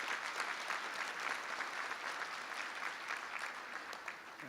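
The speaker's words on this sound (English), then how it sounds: "Let's give them a round of applause very quick for their presence here as well" An audience at a Martin Luther King Jr. tribute event gives state leaders a brief round of applause, a dense, even burst of many hands clapping together, sustained throughout and slightly tapering toward the end.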